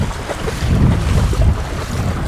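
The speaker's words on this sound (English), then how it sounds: "The wind actually is so strong" Strong, gusty wind blows along the Oregon coast, roaring and buffeting the microphone in a loud, continuous rush with low rumbling surges and no speech.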